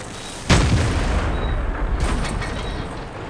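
A single heavy tank gun blast in World of Tanks fires near a house, a sharp loud boom followed by a rumbling decay and a second fainter report.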